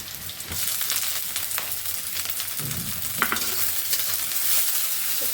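Onion, green chili and small shrimp frying in a pan, a steady close sizzle with occasional stirring scrapes, no voices.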